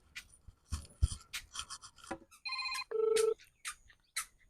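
A telephone rings in a home, giving electronic ringtone bursts among light household clatter and rustling, with no one speaking.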